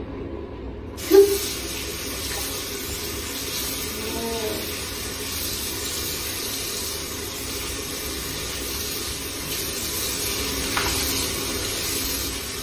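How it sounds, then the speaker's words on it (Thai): Tap water runs steadily into a sink while hands are washed, a continuous close hiss after a brief knock at the start, with faint splashing and no talk. "มาลองล้างน้ำกัน"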